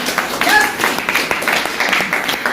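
Seminar audience clapping in a hall, a steady spread of many hands at moderate loudness across the short stretch, with a brief tonal whistle or feedback near the start.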